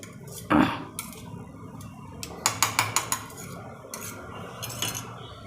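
Spices being coarsely crushed with salt in a Gujarati kitchen, heard as sharp scraping and clinking knocks, one heavy thump and then a quick run of rhythmic taps, near and fairly quiet with no voice.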